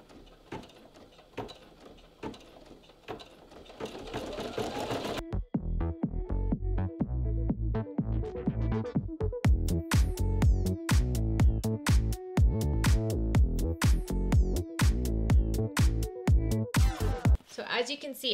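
A Brother PE800 embroidery machine stitches with rapid, even mechanical clatter and gear ticking, quieter and denser at first, then a louder run of sharp rhythmic needle strikes with a brief pause near the end.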